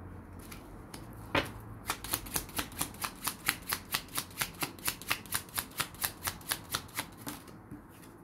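Playing cards shuffled and drawn in a quiet room, one sharp snap followed by a fast, even run of crisp riffling ticks close to the listener, with no talking.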